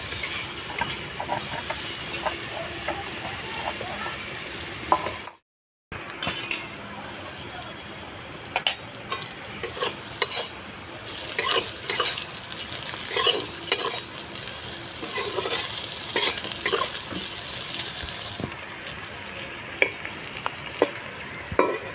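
Okra frying in a pan while being stirred, with a steady sizzle broken by a brief silent gap and sharp scraping and clinking of the spatula throughout, close and fairly loud.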